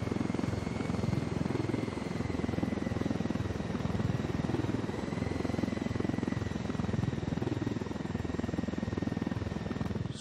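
A helicopter in Ghost Recon Wildlands holds a steady, continuous rotor and engine drone at moderate volume, unbroken for about ten seconds with no talk.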